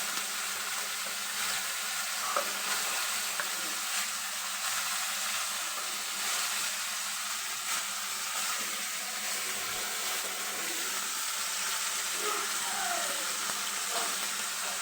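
Prawn curry broth with turmeric and pepper bubbles in a pot, a steady hiss and simmer heard close up that continues unbroken throughout.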